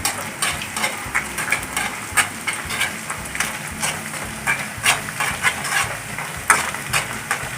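Jackfruit seeds frying in oil are stirred with a spoon, giving repeated scraping knocks at an irregular rhythm over a steady hissing sizzle, close and fairly loud.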